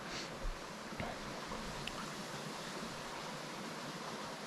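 River rapids at a California gold panning spot rush in a constant, broad roar of flowing water, steady and close, with no talking over it.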